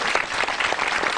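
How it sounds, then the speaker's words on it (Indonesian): A stand-up comedy audience applauding, dense steady clapping filling the room for a brief moment, with no talk over it. "Tepuk tangan dulu buat orang-orang itu."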